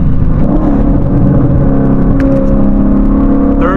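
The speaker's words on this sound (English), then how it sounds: "My first time about to bang some gears ever since I got the car back" A Ford car on a stock clutch revs hard at high rpm, engine droning loud and close with rising harmonics, then a shift as the pitch changes near the end.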